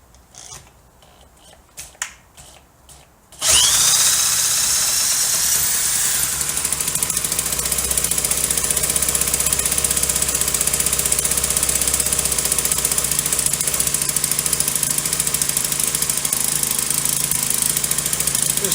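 A Troy-Bilt TB685EC small engine, primed with no choke, catches after a few quiet clicks and taps, then roars up and runs steadily and loudly for about fifteen seconds, close by.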